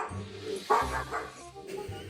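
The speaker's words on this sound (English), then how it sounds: "what does a dog sound like?" A recorded dog bark played back by a smart speaker indoors, a few short bow-wow barks and yips in quick succession, fairly loud and close.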